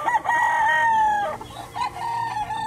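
Loud, close crowing from a Boston Roundhead stag, a young gamefowl rooster on a Batangas game farm: one long wavering call, then a shorter second crow, with farmyard fowl faintly behind.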